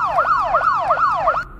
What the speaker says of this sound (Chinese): 这辆警车在追一辆被偷的汽车